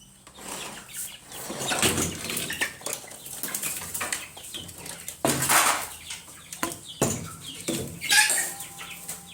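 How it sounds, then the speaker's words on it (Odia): Chickens clucking close by as they are let out during morning chores in a village yard, with irregular clucks and sudden flurries of flapping wings and scuffling, with no talking. "ଦେଖନ୍ତୁ ଏଠି କିଛି କୁକୁଡ଼ା ଅଛନ୍ତି, ଆମେ ଛାଡ଼ୁଛୁ।"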